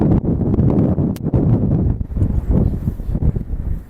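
Strong wind buffets a microphone outdoors during an attempted DJI drone flight, heavy low rumbling gusts that surge and drop unevenly, loud and close throughout.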